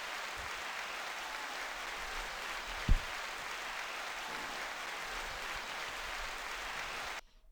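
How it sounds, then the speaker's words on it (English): Canned applause, a continuous wash of many clapping hands at moderate level, holding steady for about seven seconds before cutting off abruptly. "This last one is just applause."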